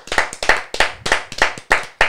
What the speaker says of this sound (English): we should give it a round of applause already